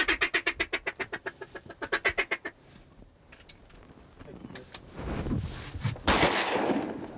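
A shotgun fired while duck hunting goes off as a loud, close blast near the end, following a rapid run of quacking duck-call bursts and a stretch of rustling outdoor noise.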